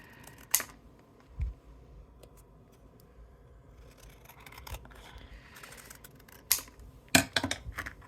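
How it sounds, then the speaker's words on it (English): Scissors snip paper die-cut pieces for a flower card, a few sparse, sharp cuts spaced over several seconds with quiet handling rustle between them. "I'm just gonna cut these pieces off"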